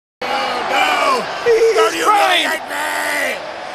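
A huge WWE arena crowd of about 80,000 roars and yells after a head-shaving stunt involving Donald Trump and Lashley, with loud, surging voices rising and falling for several seconds.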